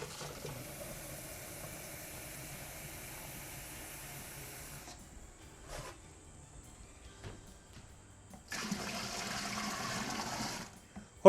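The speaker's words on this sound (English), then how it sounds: "So I'm going to top it up now with all the cold water." Cold water pouring into a beer brewing fermenter, a hissing rush that stops partway, then resumes louder near the end.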